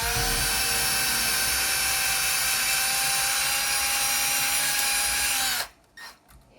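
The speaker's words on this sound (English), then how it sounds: "get the drill on the rivety side" A power drill drilling out a rivet whines loudly and continuously at high speed for several seconds, then cuts off abruptly, leaving a few faint clicks and handling noises.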